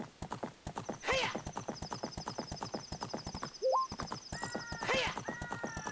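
Epona, the horse in The Legend of Zelda: Ocarina of Time, gallops with steady, rapid clip-clop hoofbeats throughout, letting out two loud whinnies along the way, with a short game chime midway and no talk.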